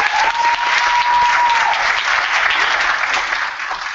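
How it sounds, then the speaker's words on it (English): Audience applause for a guest speaker at a university lecture on Big Bang theory, steady dense clapping filling the room for about four seconds, loud and continuous with a brief whistle-like tone near the start. "give a round of applause"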